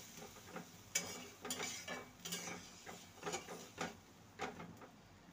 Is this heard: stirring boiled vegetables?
yes